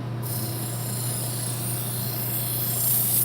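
A knife blade is worked against a sharpener to loosen the burr, making a steady, close rasping and rubbing over a low constant hum for the whole stretch.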